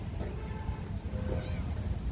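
A faint cat meow or two rises briefly over a steady, rumbling background noise.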